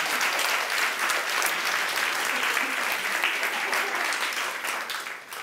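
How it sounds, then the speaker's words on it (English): Dense, loud applause from a conference audience welcoming a speaker at an occult-themed event, a steady wash of many hands that holds evenly before tapering slightly at the end. "big applause for Daniel McKenzie"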